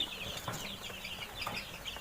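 Several Tiger-breed chickens clucking close by on a poultry farm, short repeated calls over a quiet farmyard background.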